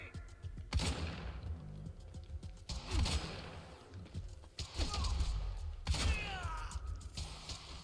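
Gunfire in the Quantum Break video game comes in several separate bursts of sharp shots over a low background of in-game effects and mechanical clatter, moderately loud.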